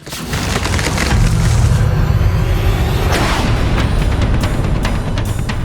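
A stone statue in a Hindu temple cracks and a piece crashes down, a loud sustained rumble of splintering and falling debris with sharp cracks, close and filling the whole clip.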